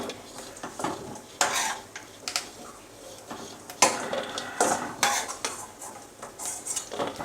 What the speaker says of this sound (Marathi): खोबरं असं मंद आचेवरच भाजा